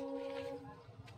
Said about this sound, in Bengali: ট্রেন যাচ্ছে ওখানে